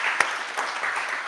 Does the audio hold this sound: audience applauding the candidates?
yes